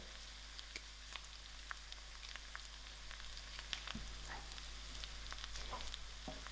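Dry chilies fry in hot oil for a sour dhal, giving a faint, steady sizzle dotted with small irregular crackles and pops throughout, heard alone.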